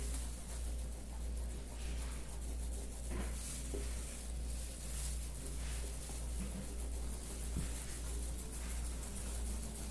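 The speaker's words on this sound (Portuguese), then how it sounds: "E mexendo para incorporar a farinha." Flour is stirred into a liquid mixture for homemade bread dough in a bowl, making a steady, soft scraping and sloshing sound that continues without pause, close by and fairly quiet.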